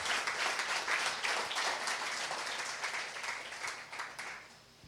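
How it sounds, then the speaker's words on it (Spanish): A church congregation applauds during a Spanish-language Sunday service, giving dense, steady clapping that holds strong and then fades away over the last second. "Dale un aplauso al Señor."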